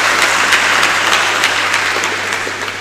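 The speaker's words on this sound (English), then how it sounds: "let's give him a big round of applause" A crowd at a national youth dialogue in The Gambia applauds a speaker, a loud, close, steady burst of clapping with scattered sharper claps, easing off slightly at the close.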